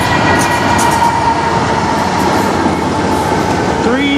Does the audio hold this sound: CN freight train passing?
yes